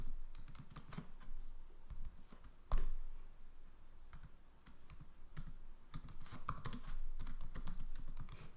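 Steady clicking of fingers typing on a computer keyboard, close and fairly quiet, with irregular bursts of keystrokes and one sharper louder tap partway through.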